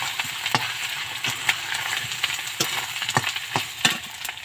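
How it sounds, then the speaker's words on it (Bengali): Potatoes with ginger frying in a pan, a steady soft sizzle close by with a spatula stirring and tapping the pan at irregular moments. "আলুটা ভাজা হয়ে গেছে, এই মুহূর্তে আমি একটু আদা দিচ্ছি।"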